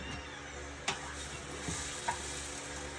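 Butter cooking in a pan gives a faint, steady sizzle, with a few soft scrapes and taps as it is stirred, heard alone without talk.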